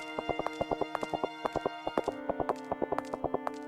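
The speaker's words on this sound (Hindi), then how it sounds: "अर्जुन ने घोड़े की रस्सी खोल दी। घोड़ा जंगल की ओर दौड़ पड़ा।" A cartoon horse gallops away into a forest, its hooves beating a quick, regular clip-clop rhythm, clear and fairly close, with no voices.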